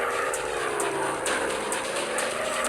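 WW2 bomber aircraft engines in a warship video game, a continuous droning propeller roar with small regular rhythmic peaks, loud and close throughout.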